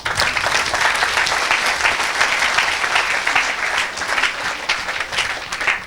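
A church congregation applauds steadily in praise of the Lord, a dense, continuous clatter of many hands clapping together that holds at an even loudness from start to end, with no talk over it.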